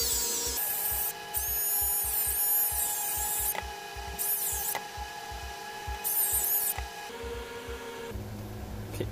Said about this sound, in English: So I'll be using a Dremel in this.